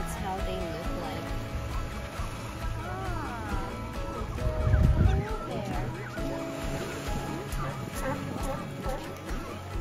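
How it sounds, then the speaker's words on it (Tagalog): Honking, duck-like water bird calls over a steady murmur of outdoor background noise in San Diego, California, with a brief louder low rumble midway. "Para silang bibe na ibon."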